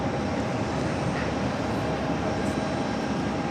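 An Air Belgium airliner at JFK airport gives a steady, broad engine roar at moderate distance that holds level throughout, with no talk over it.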